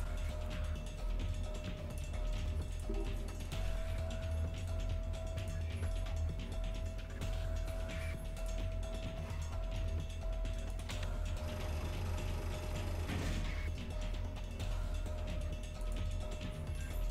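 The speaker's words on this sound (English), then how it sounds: "use the coin to unscrew it" Coin used as a screwdriver to turn the screws of a panel in the puzzle game Zero Time Dilemma, a steady mechanical ratcheting, creaking turn running on and on at moderate level with no talk.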